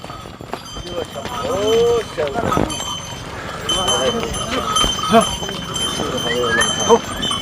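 A horse carries a holy man along the mountain trail of the Kedarnath pilgrimage, its hooves clopping in irregular steps as it approaches. Someone talks over the sound throughout, with other ambient noise nearby.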